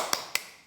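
Two sharp, close hand claps a moment apart in a quiet room, part of a rhythmic classroom spirit clap, with a third clap just starting.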